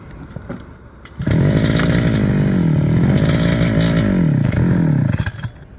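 A small two-stroke brush cutter engine is pull-started and roars into a loud, close, rough idle with a wavering pitch, running for about four seconds before cutting out again amid mechanical clatter.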